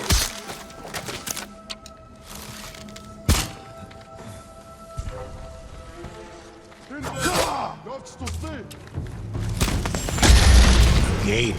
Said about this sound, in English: The ghosts found powder to destroy the gate.